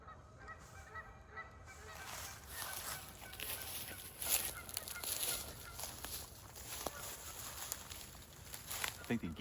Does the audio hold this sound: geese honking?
yes